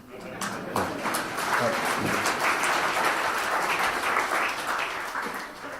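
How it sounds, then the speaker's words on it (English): A lecture audience breaks into sustained applause after a remark about an article, the dense clapping holding steady for several seconds with voices mixed in. "a lot of BJP supporters clapped"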